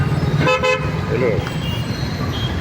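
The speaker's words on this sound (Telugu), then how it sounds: "హార్న్ కొట్టు" A car horn toots a couple of short, close honks on a rainy evening street, set over steady traffic and rain noise while people talk nearby.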